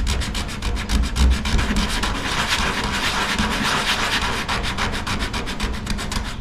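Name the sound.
sanding primer on hail-damaged car body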